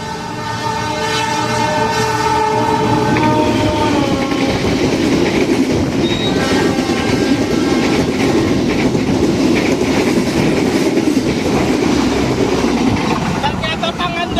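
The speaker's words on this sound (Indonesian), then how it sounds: "ini adalah kereta api Argo Dwi Pangga tujuan akhir stasiun Solo Bawang" A loud Argo Dwi Pangga passenger train rolls past close by, a steady roar of wheels on rail with a horn sounding early on.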